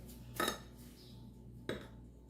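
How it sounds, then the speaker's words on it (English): A spoon knocking against a bowl while stirring blueberry banana bread batter: two short clinks about a second apart, close and fairly soft, with a quiet room behind them. "So let me stir this up"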